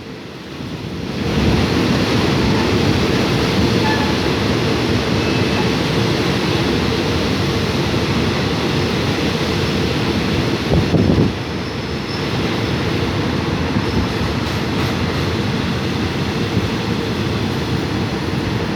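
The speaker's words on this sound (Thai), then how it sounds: "ผ่านที่อยู่รถบางซ่อนนะครับ" Rapid passenger train 172 rushes past close by at Bang Son halt, a long, loud roaring wash of noise mixed with wind buffeting, easing slightly toward the end.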